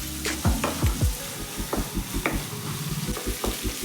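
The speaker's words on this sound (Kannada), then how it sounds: "ಇನ್ನೊಂದು ಸ್ವಲ್ಪ ಫ್ರೈ ಮಾಡಿಕೊಂಡ್ರೆ ಸಾಕು." Ivy gourd and onion stir-fried in a pan, with steady sizzling under rhythmic scraping and stirring strokes, close and moderately loud.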